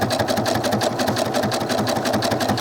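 A sewing machine stitches doll clothes in a loud, close, unbroken run with a fast, even mechanical rhythm.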